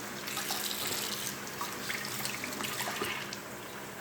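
Kitchen tap water runs while utensils are washed, a steady splashing stream with small clinks and drips, close and moderately loud, no talking.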